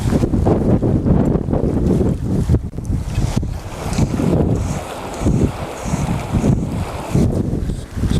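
Strong wind blows beside a river in Australia's Snowy Mountains, with loud, continuous gusts buffeting the microphone that surge and dip without a break.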